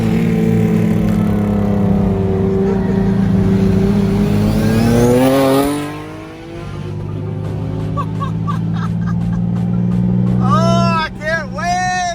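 Infiniti G37 sedan fitted with a custom mid-mount single turbo kit accelerates hard, engine tone rising steadily, then dropping through a shift and climbing again, with a turbo whistle; loud and close inside the cabin, people talking excitedly over it.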